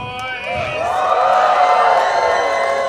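A crowd cheers and screams loudly, a sustained swell of high-pitched shouting and whoops that builds and holds.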